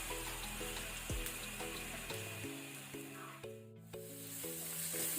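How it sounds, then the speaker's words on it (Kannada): Onions frying in a pan over a medium flame give a steady, soft sizzle with a few stirring scrapes, heard close up with no one talking. "ಇದನ್ನು ಸಹ ನಾವು ಮೀಡಿಯಂ ಫ್ಲೇಮಲ್ಲಿ ಫ್ರೈ ಮಾಡ್ಕೊಳ್ಬೇಕು ಒಳ್ಳೆ ರೀತಿ"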